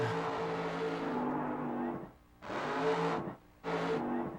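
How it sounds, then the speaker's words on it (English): A dragster engine revs hard three times, a long sustained roar and then two shorter bursts separated by brief near-silent gaps, loud and close with no voices. "That's a dragster rev."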